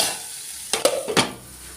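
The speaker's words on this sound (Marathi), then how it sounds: "त्याच्यात मीठ टाकून देते आणि हलवून झाकून ठेवते" A spoon stirs an egg curry mixture of tomato and salt in a home kitchen pan, giving two or three short scraping strokes with a light sizzle beneath, close and moderately loud, with no talking.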